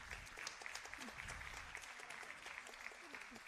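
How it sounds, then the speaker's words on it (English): Audience in an auditorium applauding a costume designer at a Bharatanatyam arangetram, a steady wash of clapping at moderate distance with a few voices underneath. "Can we have an applause for him?"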